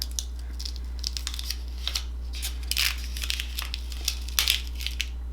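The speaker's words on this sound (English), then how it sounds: "And then we're gonna go ahead and peel this off." Heat color change vinyl peels away from transfer tape in short crackling, crinkly bursts, close and fairly quiet, over a low steady hum.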